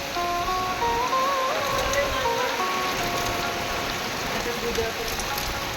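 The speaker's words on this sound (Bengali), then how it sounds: "ফুল গাছগুলো কি অবস্থা হয়ে গেল বৃষ্টিতে।" Steady rain pours on flowering garden plants on a morning, a dense even hiss throughout with faint bird chirps mixed in.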